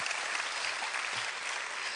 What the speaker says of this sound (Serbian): Jedan veliki aplauz za njoj.